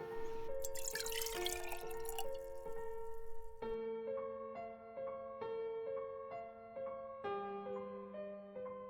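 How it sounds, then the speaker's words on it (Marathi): Indian gooseberries (amla) are swished and splashed in clean water for a few seconds over steady background music, which then carries on alone. "ते आता आपण स्वच्छ पाण्याने धुवून घेऊ"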